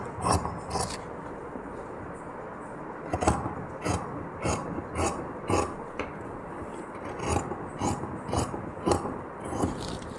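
Scissors snip through blouse fabric in a series of quiet, crisp cuts, each a short rasping slice repeated at an irregular pace, close and soft with no talking.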